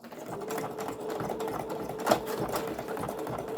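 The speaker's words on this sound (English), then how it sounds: "Okay, so I'm just going to sew this one as well." A sewing machine stitches a fabric journal cover, a close, steady rapid whirring and clatter of the needle that runs continuously, with one brief louder knock partway through.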